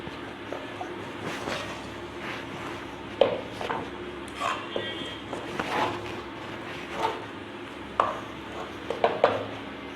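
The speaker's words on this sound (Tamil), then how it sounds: "இடையில நம்ம கொஞ்சம் இப்படி கிளறி விட்டுக்கலாங்க." Bitter gourd pepper fry being stirred in a pan, with scattered scraping and tapping of a spatula against the metal over a low, steady sizzle, the clinks irregular and close.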